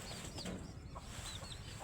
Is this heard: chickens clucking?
yes